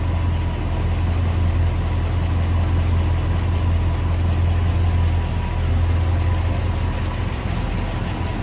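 A 1956 Ford F100 pickup's V8 with a Holley 4-barrel carburetor idles steadily and loudly up close, a deep continuous rumble with no revving and no voices.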